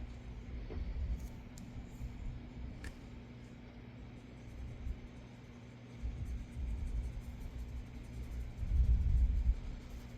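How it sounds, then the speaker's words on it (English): Distant thunder rolls outside during an indoor colouring session, a low steady rumble that swells twice and grows loudest near the end, with no talking. "Oh, rumbly thunder."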